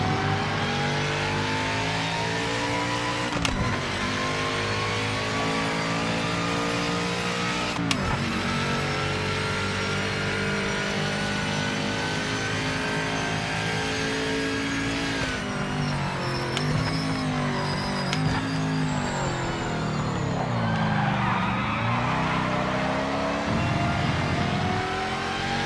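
A car engine revs hard and continuously on a drift course, its pitch climbing and falling as it slides through first gear. It is loud and close, with no talking.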